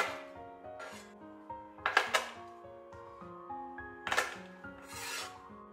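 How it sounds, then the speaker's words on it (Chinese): Garlic cloves are pressed flat with a knife blade on a cutting board, giving a few soft rubbing, crunching presses with two louder crushing bursts, close and quiet. "准备把蒜子用刀给它摁扁"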